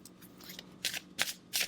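Tarot cards handled and drawn from a deck, with several soft papery shuffling and sliding bursts, the last two sharper and closer, alone without talk.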